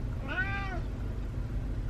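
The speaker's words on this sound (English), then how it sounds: "He has to put on the sweet meow right now." An old male cat at the vet gives one clear, drawn-out meow over a steady low background hum, then falls quiet.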